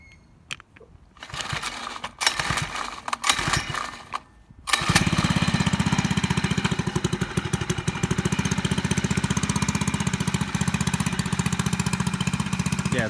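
A small 4-stroke friction-drive motorized bike engine is pull-started with its choke on. A few rough pull-cord rattles give way to the engine catching, and it then runs in a steady, loud, rapid putter up close.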